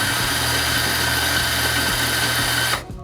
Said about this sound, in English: grind right into the center.